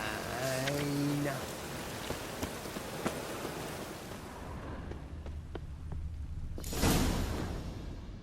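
Steady rain from The Witcher 3 hisses across the whole stretch, with a brief swoosh near the end and a few scattered background game sounds and voice-like tones early on.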